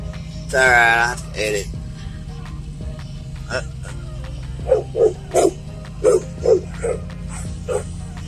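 Dogs bark in short, repeated yips and woofs while chasing, several quick barks bunched in the second half, near and fairly loud over a steady low engine hum, with a brief human voice early on.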